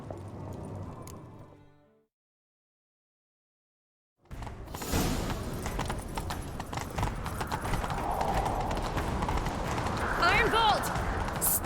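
Hooves pound in a fast gallop in the Witcher 3 video game, a loud, steady clip-clop with rushing wind, starting after a brief silence that follows a fading voice, with a horse's whinny near the end.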